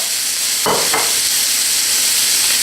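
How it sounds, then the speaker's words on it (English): Steak and mushroom stir fry sizzling in a hot pan: a loud, constant hiss close by, with two brief bursts of clatter or stirring near the start, and no speech. "steak mushroom stir fry."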